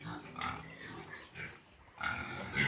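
Several pigs grunt and snuffle close by in irregular bursts at a farm, with short pauses between the grunts.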